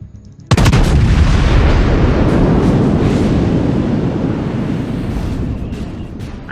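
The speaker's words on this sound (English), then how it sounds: "I am now firing on the Atlanta." The battleship Texas fires its main guns in the World of Warships video game, a single sudden loud boom followed by a long rumbling roar that slowly fades, heard alone with no talking.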